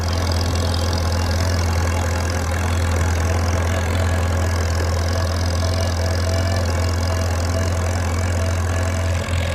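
A Farmall Cub tractor engine runs at a steady idle, a loud, even low rumble that holds unchanged from start to finish with no voices over it.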